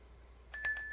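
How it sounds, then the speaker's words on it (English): A bell rung several times in quick succession after a quiet pause, bright ringing strikes with sustained metallic overtones, close and clear with no talking. "I'm going to count up to 3 and then ring the bell"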